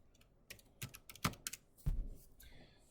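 Typing on a computer keyboard while working in EEG review software: a short burst of separate, close keystrokes in an irregular rhythm, with a heavier thump near the end and otherwise a quiet room.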